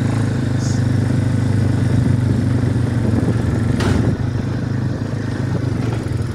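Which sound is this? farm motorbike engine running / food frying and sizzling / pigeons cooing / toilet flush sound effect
farm motorbike engine running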